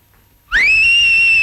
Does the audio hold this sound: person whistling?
yes